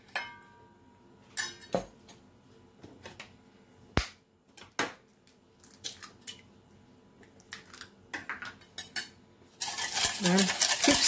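Utensil stirring egg into apple pancake batter in a bowl, giving scattered close clinks and scrapes against the dish, with a denser rustling stretch near the end.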